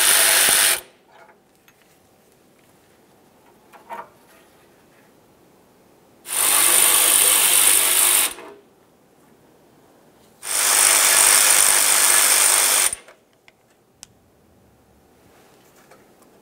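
Power tool removing the 8mm-headed mounting bolts of a fog light on a 1998-2002 Lincoln Navigator: a brief burst at the start, then two longer whirring, rattling runs of about two seconds each, with quiet gaps and faint handling noises between.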